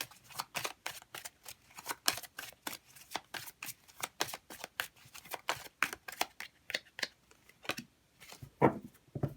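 Oracle cards being shuffled by hand in quick, regular riffling bursts, close and crisp, continuing for several seconds without talk.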